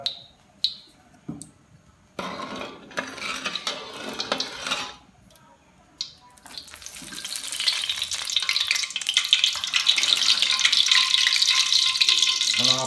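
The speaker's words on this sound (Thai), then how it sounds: "น้ำมันเริ่มเดือดแล้วนะครับ" Oil in a pan with a little salt builds to a steady, bright sizzle before frying tilapia, after a few scattered clinks and scrapes of utensils, growing louder and continuous toward the end.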